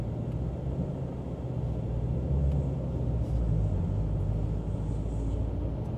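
A 2017 Shelby GT350 with a manual transmission cruises along, its low engine and road rumble droning steadily from inside the cabin without any voices.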